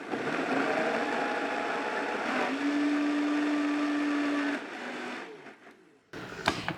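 A blender whirs as it blends chocolate orange cake cream made with coconut butter, a loud steady motor drone with a shift in pitch midway, then it cuts out and a few clatters follow.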